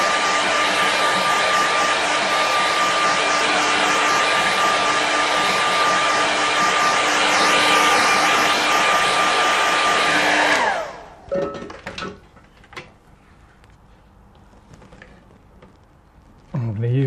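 Hair dryer blowing steadily on a watercolour seascape painting, a loud continuous whine with a stable tone for about ten seconds, then cutting off abruptly into quiet handling noises and faint taps.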